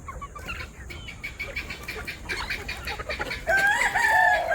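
Hens and roosters at a poultry farm cluck steadily, then a rooster crows loudly near the end, with other birds murmuring in the background.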